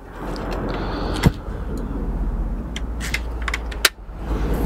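Outer plastic trim snapping onto a BMW X5 E53 climate control unit housing, with two sharp plastic clicks standing out over a steady background hum and faint handling noise.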